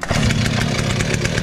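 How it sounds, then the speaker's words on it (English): A chainsaw engine running steadily and loud at close range, with a rough, even idle-like drone used to spin an alternator; no voices. "I'll start running the alternator with the chainsaw"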